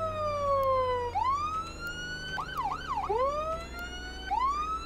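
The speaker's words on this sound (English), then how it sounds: "I can't turn my siren off." A highway patrol police siren in the Flashing Lights game wails steadily, rising and falling in long sweeps with a short burst of rapid yelp, loud and close over a low engine hum.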